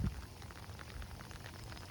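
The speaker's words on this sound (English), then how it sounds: "the hail is really coming down" Hail falling outdoors in a park, a dense, steady pattering across the ground nearby, with a brief bump at the start.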